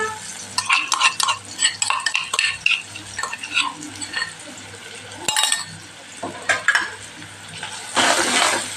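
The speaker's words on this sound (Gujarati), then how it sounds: "એ પણ સરસ આપણે ડુંગળી સાથે સતત સરસ સાતળી લેવાની" Onions sautéing with ginger-garlic paste in a pan, loud crackling sizzle under frequent spatula scrapes and metallic clinks against the pan, with a brief burst of hissing near the end.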